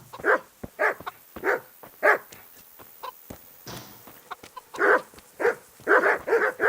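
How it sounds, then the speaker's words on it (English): Dogs bark repeatedly in a medieval village in the game Kingdom Come: Deliverance, a rhythmic series of loud, close barks about every half second, with a short lull and softer clucking-like sounds in between. "It's got lots of dogs."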